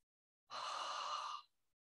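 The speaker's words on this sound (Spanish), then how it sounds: "retenemos la respiración y la soltamos por la boca" One long, steady breath is pushed out through the mouth after being held, a soft breathy rush of about a second during a guided meditation breathing exercise.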